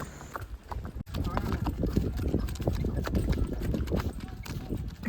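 Horses' hooves clip-clop along a mountain trail in Pahalgam, Kashmir, a steady run of close, uneven hoof strikes mixed with voices talking over them.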